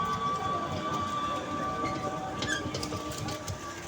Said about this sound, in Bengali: এখানে পাশ দিয়ে ওই যে ছোটো ছোটো ট্রেন যাইতেছে